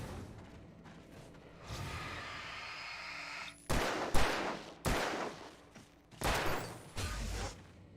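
Gunshots in Alan Wake Remastered: about five loud, sharp shots fired at irregular intervals, each with a short decaying tail, after a stretch of low rumbling ambience.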